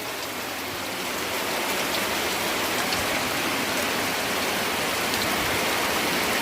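Heavy rain pours steadily onto a frog breeding pen where parent stock of the narrow-mouthed bullfrog come out into the water, a dense, constant hiss filling the space with no talking.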